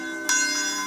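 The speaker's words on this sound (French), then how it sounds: "la même cloche qui sonna ce certain dimanche matin il y a 71 ans, appelant les croyants à venir assister au service, sonne toujours fidèlement actuellement" A single strike of the church bell at Branham Tabernacle rings out loud and clear, with a bright onset and a long, steady sustaining tone.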